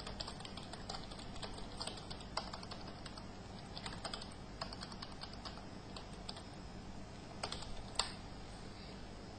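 Steady typing on a computer keyboard while writing a simple application in MS Office Word, with dense, continuous key clicks and a few sharper strikes, close and alone without talk.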